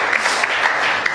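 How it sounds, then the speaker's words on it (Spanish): Church congregation claps together in a brief, dense burst of applause during a worship service, the sound close and busy for about a second. "Dale un aplauso a que vive."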